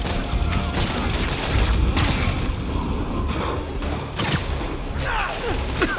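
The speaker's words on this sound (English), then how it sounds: "we have reports of live gunfire from prisoners in vehicles" Gunfire in the video game Marvel's Spider-Man Remastered: a loud, dense, continuous barrage of shots and booms with whooshing and thuds layered over it for the whole stretch.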